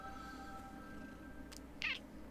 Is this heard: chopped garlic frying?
no